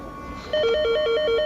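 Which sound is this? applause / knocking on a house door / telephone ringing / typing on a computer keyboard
telephone ringing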